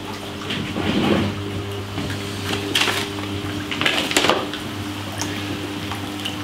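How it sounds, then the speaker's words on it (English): Pumps circulating water through an RDWC hydroponic system with an air stone bubbling in a large mixing tank: steady low motor hum under continuous trickling and splashing water, with a few louder sloshing bursts. "You can see and hear the system circulating."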